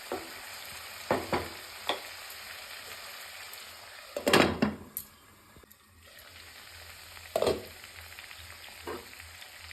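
Masala rinse water is poured into a pan of koi fish frying for a spicy oil-based koi curry, setting off a loud hissing burst mid-clip over a steady background sizzle, with scattered sharp clinks of stirring and utensils and no talking.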